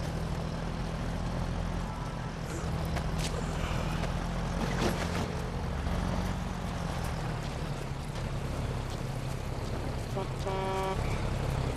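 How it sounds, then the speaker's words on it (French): A vehicle in Metal Gear Solid V: The Phantom Pain, a continuous low engine drone with propeller-like whir holding steady throughout, plus a brief tonal beep near the end. "Un véhicule là."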